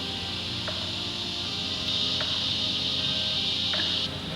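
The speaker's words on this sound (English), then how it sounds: "And look, you can hear the cicadas." Cicadas buzz in a steady, high, shrill drone near a porch swing in Gonzales, Louisiana, holding throughout, with a few faint clicks underneath.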